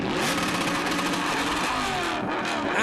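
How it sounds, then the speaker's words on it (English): A Mercedes GT1 race car revving hard in the pits during a driver change at a race in Germany, its engine roaring loud and close without pulling away. "Berman is revving it, but he couldn't get it away"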